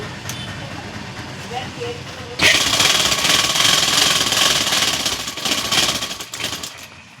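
A sewing machine stitches down a folded bag handle, starting suddenly after a spoken lead-in and running as a loud, rapid, steady mechanical chatter close by, easing slightly near the end, while a voice talks.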